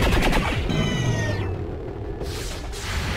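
A sniper rifle shot in XCOM 2, a loud sustained burst of game audio with a descending whooshing tone and a dense rumbling tail, no talking.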